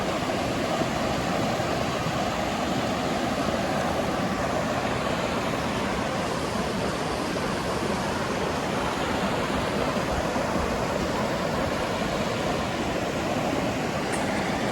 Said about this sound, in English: A lot of water coming off the mountain.